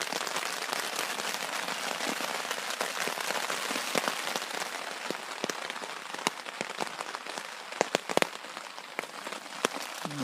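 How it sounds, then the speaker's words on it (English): Heavy rain drums steadily on a tarp shelter at a backcountry camp in the Uinta Mountains, a dense, continuous patter with occasional sharper, louder drops standing out near the end. "the rain came in too hard, so we moved everything under the shelter"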